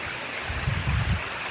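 Water flows steadily in a stream below Vellarimedu waterfall, a soft continuous rushing and gurgling that holds close and even throughout, with no voices.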